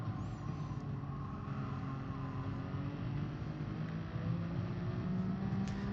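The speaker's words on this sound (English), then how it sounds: "Sounds like a Vauxhall Corsa" A racing car engine in GT Sport drones at a steady, sustained pitch, humming evenly and fairly loud with no voices over it.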